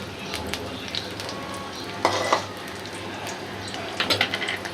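Duck and chicken eggs sizzle steadily in hot oil in a karahi, with brief louder bursts of scraping and stirring around two and four seconds, close and alone without talk.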